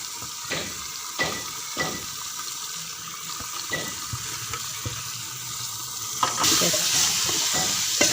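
Urad (mash) dal sizzles in a pan for a Pakistani roast dal mash, with a steady frying hiss broken by repeated scraping stirs and a louder surge of sizzle near the end.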